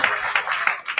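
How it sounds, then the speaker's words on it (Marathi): Audience members at a kirtan devotional performance clap in a quick, regular rhythm, about three claps per second, fairly close and with no other sound. "मनापासून एकदा सगळ्यांसाठी टाळ्या वाजवूया आपण"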